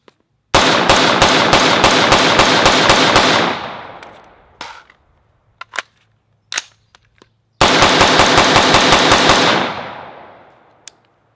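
A BCM 14.5 inch rifle fires at an outdoor range in two long rapid strings of loud, sharp shots, with a few scattered single shots and quieter clatter between them.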